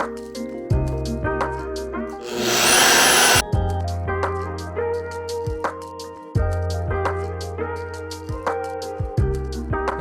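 A power saw bites into material in a home workshop during a cookie-maker build. It gives one loud, harsh burst of about a second, set against steady background music.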